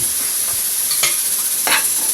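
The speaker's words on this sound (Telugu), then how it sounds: "ఒక ఉల్లిపాయ సన్నగా ముక్కలు కట్ చేసి వేస్తున్నాను." Thinly sliced onion sizzles loudly in a pan with poppy seeds, a dense, constant frying hiss with a couple of stirring scrapes cutting through.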